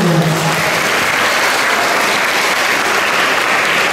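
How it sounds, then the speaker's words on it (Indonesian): Applause from SMA 17 students at the opening of a national school library competition visit, a dense, steady clapping that fills the room at full loudness throughout. "Tapi kan tepuk tangan dulu dari SMA 17."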